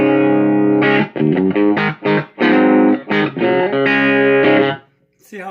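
An electric guitar plays through a ZT Lunchbox amp set to a clean tone with the ambience knob off: a loud, close run of ringing strummed chords with short gaps, ending abruptly.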